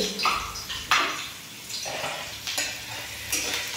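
Fenugreek seeds and two dried red chilies roasting in a pan for bhindi masala, with a steady soft sizzle and a few scraping stirs of a spoon against the metal, close and moderately quiet, no talking.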